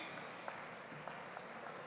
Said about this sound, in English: please give a big round of applause to Professor Ram Charan Ji